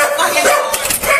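A dog barking loudly at close range during a police encounter, with a short run of sharp barks and yips.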